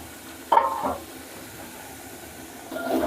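Onions frying in a pan for capsicum masala curry, a soft sizzle with short stirring scrapes near the start and again toward the end.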